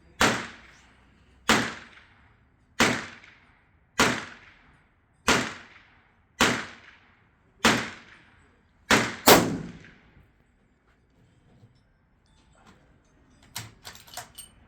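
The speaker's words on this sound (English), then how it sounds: "it's a good idea to keep your mouth shut when when you're shooting a magnum rifle" Nine sharp, loud magnum rifle shots ring out at a steady pace roughly every 1.2 seconds, each decaying quickly, followed by quieter handling clatter near the end.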